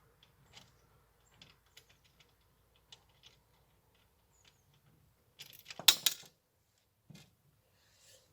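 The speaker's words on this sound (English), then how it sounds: "Now we just need to screw them together." Parts of a KGT Orchidee 4 greenhouse being screwed together: sparse faint ticks and clicks, then a short, louder ratcheting burst of mechanical turning near the end, with no talking.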